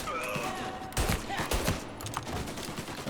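Gunfire in the video game Mafia: Definitive Edition comes as several sharp, close shots over a steady background, with a few louder cracks bunched around the middle.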